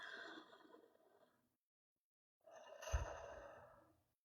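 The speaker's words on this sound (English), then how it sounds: "Really big deep breath." A person takes a really big deep breath: a long, soft airy inhale, then a pause of silence, then a fuller, louder exhale like a sigh, close and alone.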